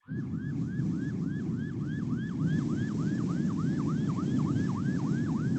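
An emergency vehicle siren on a passing car, heard from inside another car, wails in a steady rapid cycle, loud and continuous over a dense low road rumble throughout.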